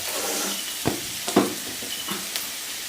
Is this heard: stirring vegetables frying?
yes